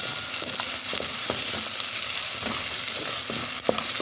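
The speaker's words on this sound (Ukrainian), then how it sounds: "Так, додали цибульку, майже вже її обсмажили" Onion frying in a little oil in a heated cauldron pot, a dense continuous hiss of sizzling with scattered soft clicks of stirring, close and steady throughout, no speech.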